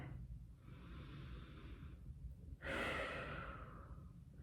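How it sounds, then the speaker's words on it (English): A person breathes slowly during a yoga and mobility session, a soft hissing inhale followed by a louder, longer exhale, close and faint with no talking. "Let your hands fall under your ribs and just take a breath here."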